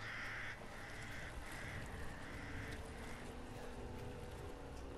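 Crows caw in the Resident Evil Village video game, several harsh calls in a row over a steady wash of wind and water ambience.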